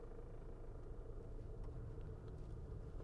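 2015 Land Rover Discovery Sport 2.0 TD4 HSE automatic 4WD rolling downhill under hill descent control, a steady muffled engine and road rumble heard from inside the cabin, with no one speaking.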